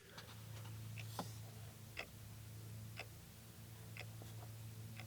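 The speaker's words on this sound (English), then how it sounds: "Oh, the clock's working. Listen, see if you can hear this." The dashboard clock of a 1979 MG ticks in a steady rhythm of about one tick per second, faint and close over a low background hum.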